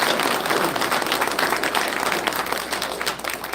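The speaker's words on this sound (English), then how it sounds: "I want to give a round of applause to our investigators and Acting Chief Bowen for their work" An audience gives investigators and an acting police chief a round of applause, a dense, steady clapping from many hands that carries on evenly for the whole stretch without any voices.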